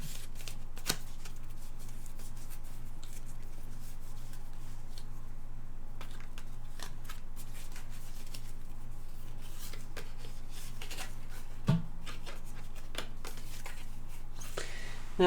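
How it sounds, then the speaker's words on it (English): Louise Hay power thought cards being shuffled by hand in soft, papery riffling and rubbing sounds, faint and close, with a steady low hum in the background and no talking. "And before you leave, we will do a power thought card from Louise Hay."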